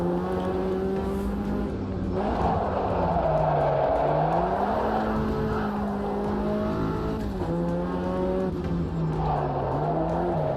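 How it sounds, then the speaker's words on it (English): Ford Puma race car engine on a cold track, a continuous loud engine drone rising and dipping with gear changes and throttle, steady throughout with no voices. "I think this Puma sounds better than the Ginetta."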